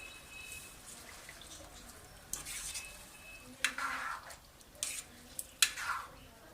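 Chicken and kachnar buds being sautéed with whisked yogurt in a pot: a quiet, steady low sizzle broken by a few sharp clicks and scrapes of a spoon against the pot in the second half, with no talking.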